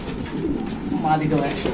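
Lahori pigeons coo steadily and close by, a low throaty burbling that continues for the whole short moment.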